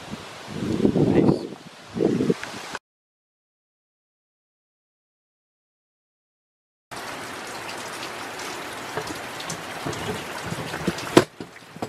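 Steady rain hiss with rustling in the Victorian High Country, broken by a stretch of silence; earlier a few louder gusts or movements, and a sharp tap near the end.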